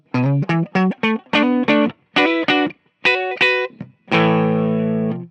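A 2019 Gibson Les Paul Modern electric guitar on its neck pickup, with a warm, slightly overdriven tone, plays a series of short chords in bursts, ending on a long sustained chord.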